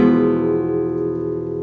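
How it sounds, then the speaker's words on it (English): Flamenco guitar playing the simple arrastre technique, a single loud close strummed chord ringing out and slowly fading. "The simple Arrastre will sound like this"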